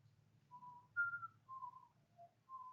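A man whistles a short, slow tune of sustained notes, solo and fairly close, over a low background hum in a hydronic heating training setting.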